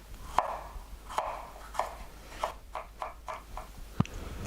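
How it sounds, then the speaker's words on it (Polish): A knife chops a cucumber into thin sticks on a cutting board, giving about eight or nine evenly spaced crisp taps at close range in a quiet kitchen. "Ogórek kroję w takie dość drobne słupki."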